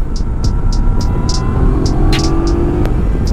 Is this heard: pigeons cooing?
no